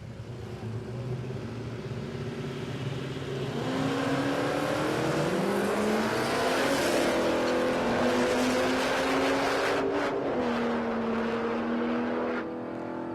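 Drag race launch at Palmyra Raceway: a turbocharged Barra-powered Skyline and a wagon rev up, then a loud, rising engine roar surges and holds close by before cutting off near the end.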